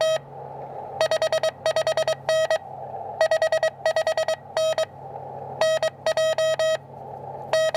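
Morse code CW signal received on an amateur radio, a strong, steady tone keyed in quick dots and dashes over a low hum of band noise, continuing in rhythmic bursts throughout.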